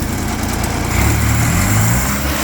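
John Deere 322 lawn tractor engine running steadily at throttle, a loud continuous drone that deepens and strengthens briefly midway, with a governor problem in the engine.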